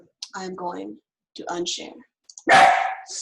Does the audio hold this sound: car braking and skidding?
no